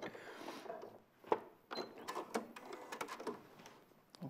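Sewing machine stitching in short uneven bursts, mixed with clicks and handling noises, fairly quiet and without talk.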